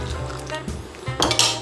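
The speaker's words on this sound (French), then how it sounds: "Je mets les petits pois dans la casserole." Peas rattle and clatter into a metal saucepan in a quick burst, with a few light clinks before it, against a low background hum.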